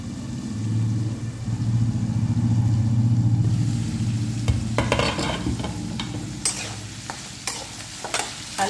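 Mixed vegetables, including carrot, fry in a pan for a bhaji. A steady low sizzle and rumble comes first, then a series of spoon scrapes and knocks against the pan as the vegetables are stirred.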